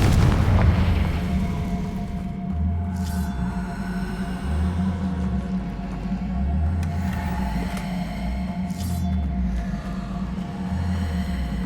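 Confringo blasting spells explode in Hogwarts Legacy, a loud, continuous booming rumble with sharper bursts flaring up now and then, with no talking.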